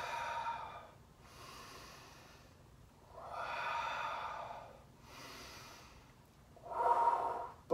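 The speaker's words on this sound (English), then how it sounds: "Three decompression breaths." Three slow, deep decompression breaths taken during a balance and abdominal workout, each a long breathy inhale or exhale in close, evenly spaced swells, the last the strongest.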